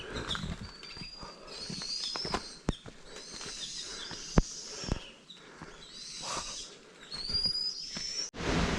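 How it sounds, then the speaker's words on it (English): Outdoor nature ambience in an open pasture and forest in Nepal, with scattered bird calls and whistles, a few sharp close clicks, and distant animal sounds throughout. "You can hear all the birds and the animals."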